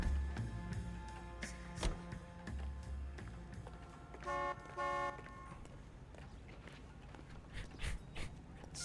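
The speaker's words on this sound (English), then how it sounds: "Drive through an intersection, you just hear everybody honk." Car horns honk at a city intersection in the 1940s Los Angeles crime game L.A. Noire, two sustained toots sounding close together midway over busy street traffic and scattered clicks, with no talking.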